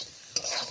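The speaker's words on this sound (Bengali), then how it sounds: "এখন আমি ভাজা করছি" Potatoes being stirred in a hot pan of frying oil, a short scrape of the spoon followed by steady close sizzling, with no talking.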